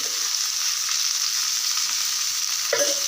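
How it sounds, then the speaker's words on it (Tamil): Fish frying in hot oil for a fish curry, giving a steady close sizzle and hiss with a single clatter near the end, no talking. "எண்ணெய் ஃபஸ்ட்டே ஊற்றி சூடு பண்ணி வச்சு நம்ம மீனை பொறிச்சு எடுத்துக்கலாம்"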